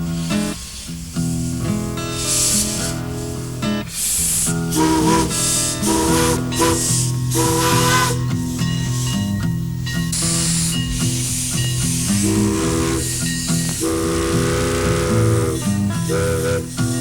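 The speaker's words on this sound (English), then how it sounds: "aboard one of a dying breed, an actual steam locomotive" A steam locomotive on the Mount Rainier Scenic Railroad hisses and sounds its whistle in a steady, loud stretch, with dense sustained tones and continuous venting.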